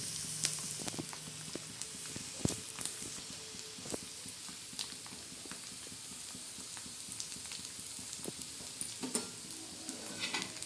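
Egg bhurji being stir-fried in a pan, a low, quiet sizzle broken by scattered clinks and scrapes of a spatula against the metal, with no one talking.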